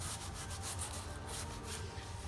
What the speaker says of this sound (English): I'm using my little sanding block here. This will just get the surface all smooth again.